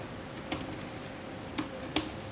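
A few sparse, isolated keystrokes on a computer keyboard while a file name is entered in a code editor, quiet and close over a faint steady background hiss, no talking.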